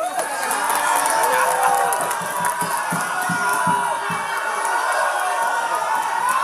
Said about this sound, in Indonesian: Kita berikan tepuk tangan kepada 2 calon gubernur.